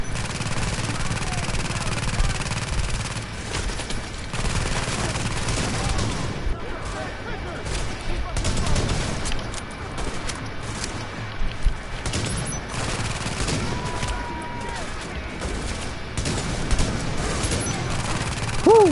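Game gunfire from The Division, an urban firefight against a sniper: dense, sustained bursts and rattling shots fill the scene at steady loudness, with a voice talking now and then over the shooting.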